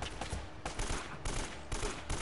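Gunfire in the video game Uncharted: rapid bursts of automatic shots in loud, repeated volleys, close and punchy, with short gaps between each burst. No speech.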